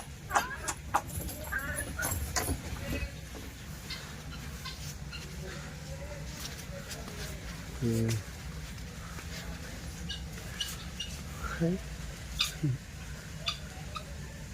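Chickens cluck in short, scattered bursts against a busy, noisy background, with occasional louder fowl calls and a murmur of distant voices.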